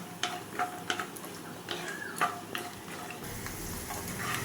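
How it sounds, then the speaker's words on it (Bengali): Peanuts fry in hot oil with a soft, continuous sizzle, while irregular clicks and scrapes of stirring come through close up. "বাদামগুলো একটু নাড়াচাড়া করে আমি ভেজে নেব।"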